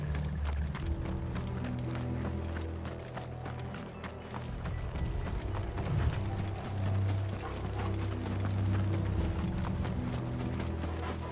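Steady rhythmic clip-clop of horse hooves with rattling, mechanical clatter in the video game Final Fantasy XVI, continuous and moderately loud throughout.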